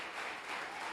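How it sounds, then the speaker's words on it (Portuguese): Church congregation applauding during a worship service, a brief, faint wash of steady clapping heard from a distance. "Pode dar uma salva de palmas ao Senhor"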